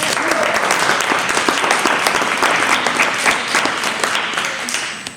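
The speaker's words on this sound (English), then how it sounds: "Can we have a round of applause for Angel?" An audience at an evening event celebrating Indigenous women leaders breaks into loud, sustained applause that fills the room and tapers slightly at the end.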